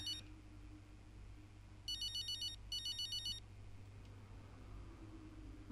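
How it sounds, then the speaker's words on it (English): A phone ringtone from the F1 25 racing game rings in two short patterned bursts of electronic tones, loud over a steady low hum and background noise, with no talking. "Any phone call?"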